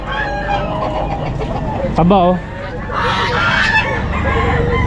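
One short crow from a Bantam Cornish chicken rises briefly amid a busy pet market, nearby voices chatting over steady background crowd noise.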